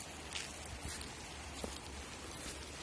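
Heavy rain pours steadily onto a surface as a dense, continuous broadband hiss with scattered drop impacts, loud and close, with no one speaking.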